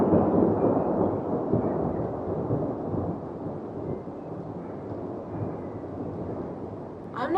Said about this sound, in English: that thunder's getting pretty loud and it's even spooking me out a bit